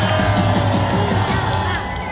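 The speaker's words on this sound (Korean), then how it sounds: "큰 박수를 보내주시기 바랍니다" A loud crowd at an outdoor political rally in Gwanghwamun, Seoul, cheers and shouts continuously, with whoops rising above a dense wash of voices.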